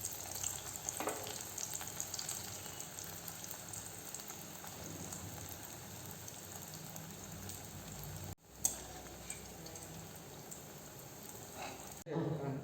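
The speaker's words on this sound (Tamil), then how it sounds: "இப்படி எல்லா ப்ரெட் பீசஸும் நம்ம போட்டு வறுத்தெடுத்துக்கலாங்க." Bread pieces deep-fry in hot oil for a bread halwa, giving a steady close crackling sizzle that runs alone throughout and cuts out briefly twice.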